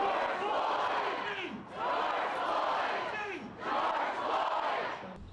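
Hundreds of protesters chant loudly outside Houston City Hall against the city budget approval, the crowd's voices rising in three sustained, rhythmic waves with brief dips between them, echoing off the building.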